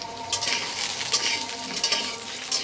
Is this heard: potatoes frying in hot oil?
yes